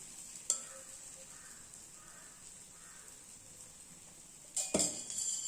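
Dosa batter sizzles in oil on a hot griddle, a steady faint hiss broken by a utensil clink near the start and a louder scrape near the end.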